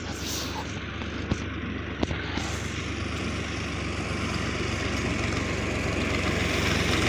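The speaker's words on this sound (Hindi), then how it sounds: "ट्रैक्टर आ रहा है, इस पर पता नहीं बाजरा लाड़ा हुआ है।" A tractor loaded with millet approaching, heard as a continuous low engine drone that builds gradually louder, with a couple of brief knocks early on and steady rumbling throughout.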